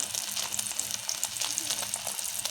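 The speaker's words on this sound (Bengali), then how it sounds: "ইলিশ মাছের একটু ডিম ছিল, ওটা ভেজে নিচ্ছি" Hilsa fish roe frying in hot oil in a home kitchen, a steady close sizzle with frequent sharp spits and crackles and light stirring, no talk.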